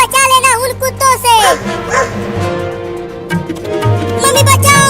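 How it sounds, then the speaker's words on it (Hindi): A cartoon dog lets out loud, yelping barks and whimpers up close, first in a quick excited run, then scattered over busy background sound with voices talking. "वो कुत्ता आ रहा है"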